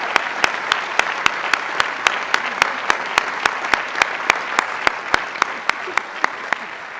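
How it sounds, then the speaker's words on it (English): Sustained applause from a large commencement crowd at Harvard honoring medalists, a broad even wash of clapping with a regular train of sharp, loud claps or taps punctuating it throughout. "Let's give them a round of applause again."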